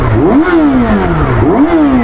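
A Yamaha R6 motorcycle with a titanium full-system exhaust revs twice in quick succession, its deep, raspy exhaust note sweeping up and falling back each time, loud and close.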